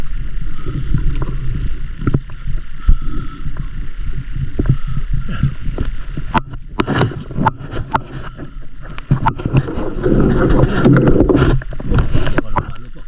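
Small fishing boat out on the water after a flood, with a steady close rumble, wind buffeting and knocks and splashes, voices talking over it at times.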